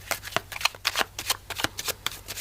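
Tarot cards from a Smith-Waite deck are shuffled and one is drawn, giving a rapid run of close, crisp riffling and flicking bursts in an uneven rhythm with no talking.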